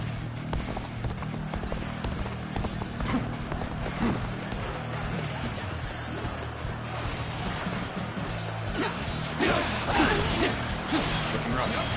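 Rhythmic hoofbeats of a galloping horse in Dynasty Warriors: Origins over steady game music and rumbling background effects, continuous throughout.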